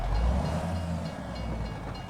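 A train rolls past near railroad tracks in rural Alma, Missouri, making a steady low rumble that swells slightly at the start and then holds, with no voices.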